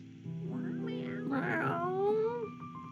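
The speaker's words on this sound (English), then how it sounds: "You are a good cat." A cat meows in a short, rising and falling call close by, with a drawn-out middle and a tapering end.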